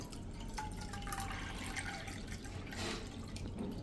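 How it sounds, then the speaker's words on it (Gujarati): A thin stream of water pours steadily into a bowl of millet flour, with faint splashing against a quiet background hum. "અને એમાં આપણે અત્યારે 1 કપ પાણી નાખશું"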